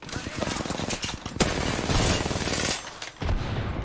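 Dense gunfire from an Apex Legends firefight, with rapid overlapping shots and bursts crackling loudly throughout, a brief lull near the end before the shooting resumes.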